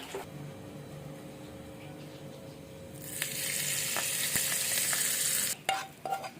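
Hot tempering with curry leaves poured into raw green tomato chutney: a quiet background hum gives way to a sudden loud hiss that fills the middle seconds, then cuts off with a few clinks and fades.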